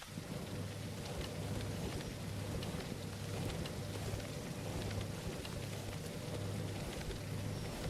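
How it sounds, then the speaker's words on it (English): Steady rain in the video game Leaf Blower Co, a dense continuous hiss with a low rumble underneath, constant and fairly soft throughout. "It's raining, I know that."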